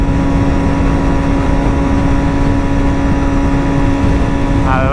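A Chevrolet Camaro's engine hums steadily at a constant pitch, loud and close, with a strong low drone and no clear revving, heard from a back road alongside a motorcycle ride.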